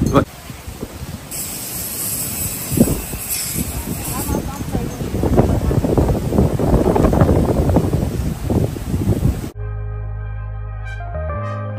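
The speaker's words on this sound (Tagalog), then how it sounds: "Medyo mahangin, no?" Wind buffets the microphone in a steady rushing roar outdoors on a third floor in Boracay, Philippines, with people talking underneath, before the noise cuts off abruptly near the end.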